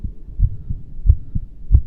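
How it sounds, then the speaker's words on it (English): A haunted house's heartbeat sound effect thumps in a slow, regular deep pulse, several close booming beats ringing out alone and loud. "That's the house's heartbeat."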